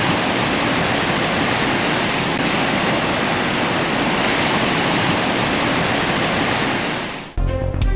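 Floodwater rushing in Punjab makes a loud, steady, broadband roar that runs unbroken for several seconds and then cuts off abruptly near the end.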